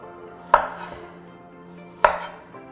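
A knife cuts the peel off a celery root with two sharp, close strikes spaced about a second and a half apart, each followed by a short scraping decay, with no talking.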